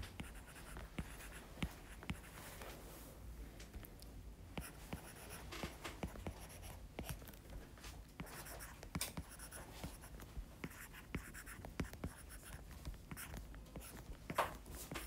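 Chalk or marker tapping and scratching against a board in short, irregular strokes and clicks, fairly faint, with no voices over it.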